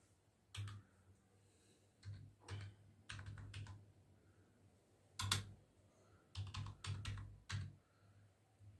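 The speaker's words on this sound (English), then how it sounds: "let me type something." Keys clacking on a Logitech computer keyboard, typed in short clustered bursts with pauses between, close and fairly quiet against a faint steady hum, no speech.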